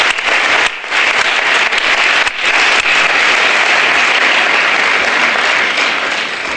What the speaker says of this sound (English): Let's give one more round of applause to Michelle Lopez.